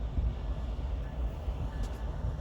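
A snow shuttle train rolling along the track in Fremont, Nebraska, a steady low rumble with faint rhythmic clanks, moderately distant and continuous.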